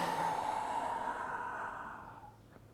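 One long, steady exhale through the nose or mouth during a spiral flystick exercise, close and soft, slowly fading over about two seconds and heard alone.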